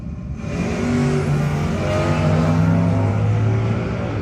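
Drag racing cars, including the Sachs and Sons Camaro, in a no-box 660 shootout: a loud, sustained engine roar builds after a brief quieter start and holds steady, with shifting harmonic tones, no talk.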